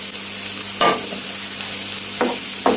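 Eggplants sautéing in a pan for a börek filling, a steady close sizzle with a few sharp stirring scrapes, no voices.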